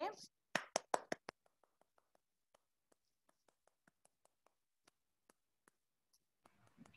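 Hand claps from a teacher in a classroom sound-recognition game: a few sharp, close claps near the start, then a long series of faint, evenly spaced light taps, with a voice at the very beginning.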